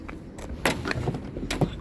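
A car door locks with two sharp mechanical clunks about a second apart, close and fairly loud, in a quiet car interior with no talking.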